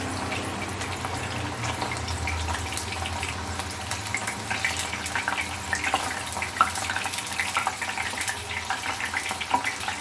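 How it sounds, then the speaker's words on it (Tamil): Chana dal frying in hot oil gives off a steady, dense sizzle and crackle that runs without a break, close and moderately loud, with no talking. "இந்த சலசலப்பெலாம் அடங்கணும், உடனே தான் எடுக்கணும்."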